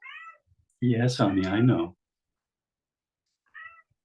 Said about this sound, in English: forgive me if you can hear my cat in the background